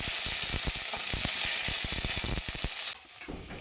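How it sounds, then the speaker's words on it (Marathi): Val bean pods sauté in a kadhai with oil, cumin and mustard seeds, making a loud, dense sizzle broken by rapid scraping stirs, close up, before the noise drops abruptly near the end. "दोन पळे तेल टाकून घेतलं आहे त्यात जिरे मोहरी टाकली आणि वालाची शेंगा टाकून परतून घेते"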